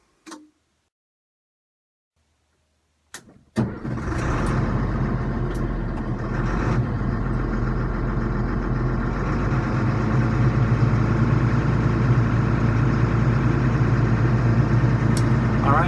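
A military FMTV truck's diesel engine runs at high idle after starting up, a steady, loud low rumble that continues without a break after a few brief clicks and a thump.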